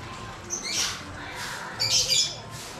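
A large parrot squawks twice with harsh, loud calls, one shorter burst and then a longer one, over a steady background murmur in a zoo-like animal enclosure.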